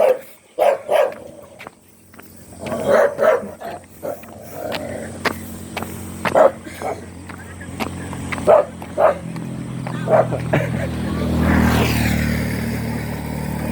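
A tied-up dog barks in irregular bursts, fairly close, over rhythmic jogging footfalls, then a vehicle or engine drone swells toward the end.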